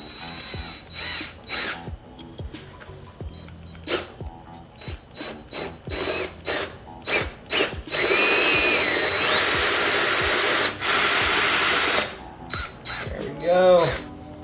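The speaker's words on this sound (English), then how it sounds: "stick on the hole saw, center it on, cross my fingers and drill." A power drill with a hole saw runs in short bursts, then grinds steadily through motorcycle material for a few seconds before stopping, with brief mechanical whirs and clicks around it.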